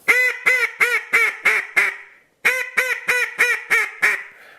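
A hand-blown duck call imitates a duck's quack, loud and close, in two runs of about six rhythmic, descending quacks separated by a short pause.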